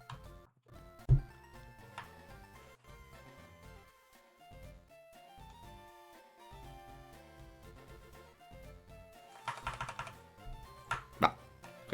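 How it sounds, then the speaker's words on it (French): A computer keyboard acting up, with irregular clattery key taps and clicks, some sharper bursts near the end, over a faint background of game music. "Mon clavier est en train de péter un câble."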